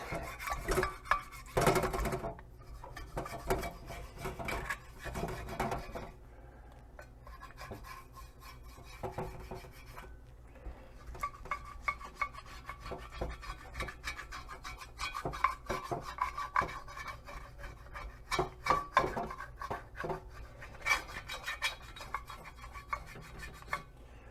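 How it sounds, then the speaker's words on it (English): A nylon scraper rasps across a kitchen surface in repeated rough strokes, bursts of scraping broken by short pauses and occasional light clinks. "This is one of my favorite tools. It's a Nylon Scraper. It's made for this type of stuff."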